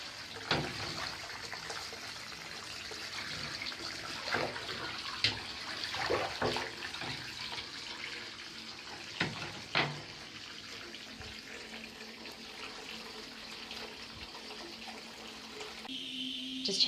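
A bath fills from the tap with a steady, soft rush of running water, heard indoors, broken by a few brief knocks and splashes.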